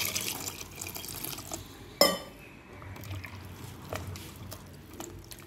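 Water is poured onto freshly churned butter to wash it, a faint close splashing and trickling with a sharper splash partway through, in a quiet room with no speech.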